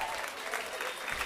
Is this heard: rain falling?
no